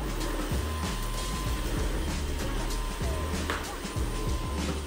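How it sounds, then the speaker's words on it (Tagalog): Constant whirring drone of a vacuum cleaner running close by, with faint knocks and bumps underneath. "Vacuum pa more!"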